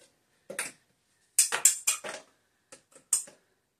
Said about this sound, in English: I'm going to add 1 cup of overflowing ice.